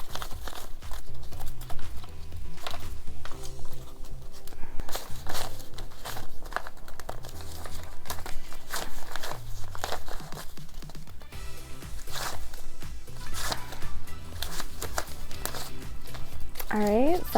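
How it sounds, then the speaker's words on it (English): Paper cash bills being counted and sorted, with steady crinkling, rustling and flicking close by, broken by soft taps, while someone talks throughout. "so while I'm actually divvying up this cash"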